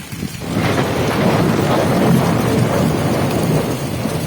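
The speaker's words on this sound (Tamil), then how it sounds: "வெளியில் காற்று ரொம்ப அடிக்குது," Strong wind of Cyclone Fengal roaring loudly and without pause, close by, with a hissing, rain-like wash mixed into the gusts.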